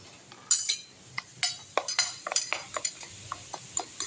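Beetroot, carrot and drumstick-leaf idli batters are mixed together in a bowl, giving a series of close, sharp clinks and scrapes of a utensil against the bowl in an irregular rhythm, with no talk.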